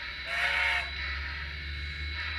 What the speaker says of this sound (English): by holding down the forward key, I can control its whistle.